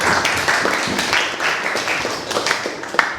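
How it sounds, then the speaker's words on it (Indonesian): Classroom students applaud together in a steady, dense patter of many hands clapping for a few seconds, loud and close, with faint voices mixed in. "Tepuk tangan untuk Karisa."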